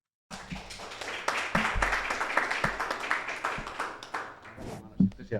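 An audience on a music talent show breaks into applause that swells after a brief silence and holds, mixed with voices and cheering, then tapers near the end.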